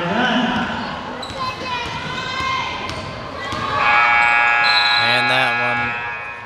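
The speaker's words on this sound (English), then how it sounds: "Not able to go before the buzzer." End-of-quarter buzzer at a girls' high school basketball game, a loud, steady electronic tone sounding over bouncing balls and crowd noise in a gym while a commentator talks.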